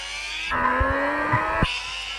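Cars crash in a driving video game: a rising engine whine with tire squeal runs for about a second, punctuated by three or four dull impact thumps, then cuts off, loud and close with no talk.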